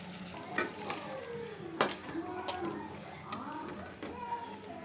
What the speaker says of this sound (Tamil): இப்போது அரைச்சி வச்சுக்கிற தக்காளி ஊற்றிடலாம்.